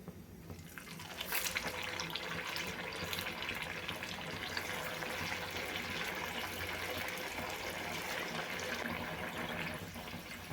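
Sabudana vada fries in hot oil, giving a dense, steady sizzle and crackle that starts softly and then swells into a continuous close hiss.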